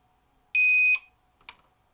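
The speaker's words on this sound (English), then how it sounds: "Something beeped." A Belkin F6C325-SER UPS gives one loud, steady electronic beep lasting under half a second. A short, quieter chirp follows about half a second later in an otherwise quiet room.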